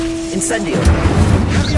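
A voice speaks, then a deep, rumbling whoosh-boom erupts as an Incendio fire spell is cast in a Harry Potter game, loud and close, trailing off into a crackling rumble.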